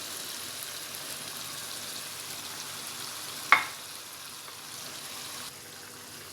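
Beef koftas simmering in curry gravy on low heat: a quiet, steady sizzle and bubbling with one brief sharp clink partway through.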